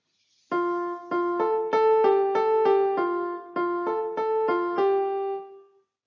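A single melodic line of clear, sustained notes, about ten in an even rhythm, forms the opening phrase of a short period example in music theory. It plays alone and close, with no talking, and fades at the end.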